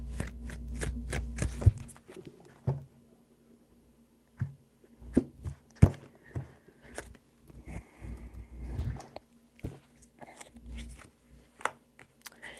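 Tarot cards handled and shuffled close up, with scattered crisp flicks and riffles separated by quiet gaps, plus a couple of denser bursts; no talking.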